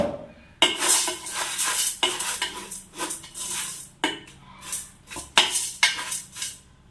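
Rock salt is poured and moved around in a wide metal idli steamer pot, giving bright rattling, gritty clatter in several loud bursts separated by short pauses.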